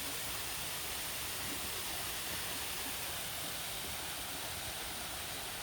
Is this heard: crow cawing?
no